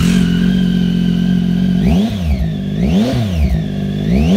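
A 2013 Triumph Tiger 800 XC motorcycle with an Arrow exhaust idles steadily up close, then is blipped through two sharp revs that rise and fall before settling back to idle.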